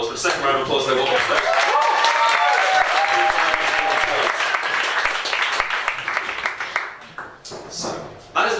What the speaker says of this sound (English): but a second round of applause, they will be